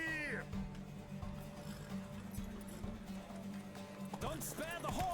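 Horse hooves clip-clopping in a race in The Witcher 3, steady and fairly close, running under a voice and game music throughout.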